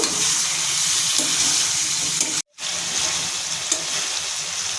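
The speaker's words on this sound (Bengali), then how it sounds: "এবার আমি দিয়ে দেবো ম্যারিনেট করা চিকেন। ভালোভাবে মিক্স করে নেব।" Marinated chicken sizzles hard in a pan with onions already fried pink over medium flame, a dense, steady close-up frying hiss broken by one sudden brief cutout near the middle, with no talking.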